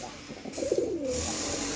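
A flying-line pigeon of the Andhra breed gives one brief, low, throaty coo at close range against a faint, steady background hum.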